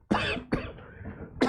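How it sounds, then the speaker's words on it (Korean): Three close, harsh dry coughs in quick succession, the last one cut short. "마른 기침이 오늘 자꾸 나오네요."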